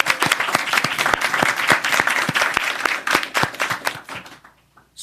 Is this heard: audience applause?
yes